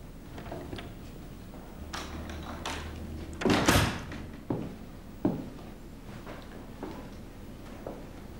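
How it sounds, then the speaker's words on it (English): An office door is shut in a quiet room, giving one loud thud with a short rattle, followed by faint scattered knocks and small movements. "Close the door, will you, John?"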